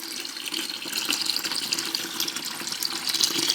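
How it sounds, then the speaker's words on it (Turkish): Water running hard from a tap and flushed through a combi boiler radiator, a steady loud gushing hiss that holds without a break. "çeşmeden daha tazikli bir şekilde suyu akıtmış oluyoruz"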